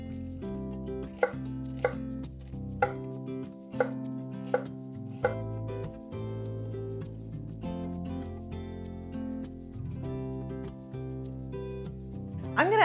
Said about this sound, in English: Next up, 1 onion. I'm just going to chop this finely and then add it into the butter.